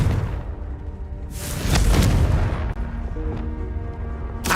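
Confringo blasting spell in Hogwarts Legacy, a heavy rumbling explosion with a rising whoosh at its peak, sustained booming roar and crackle lasting several seconds, loud and close, no speech.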